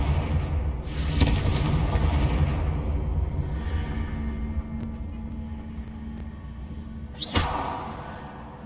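A Confringo blasting curse goes off in Hogwarts Legacy with a heavy whooshing boom, a rumbling decay lasting several seconds, and a second sharp crack and swish near the end.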